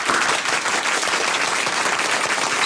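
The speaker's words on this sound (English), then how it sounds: "That deserves the biggest round of applause" Sustained audience applause at an awards celebration for volunteer heroes, dense steady clapping from a large crowd filling the whole stretch without pause.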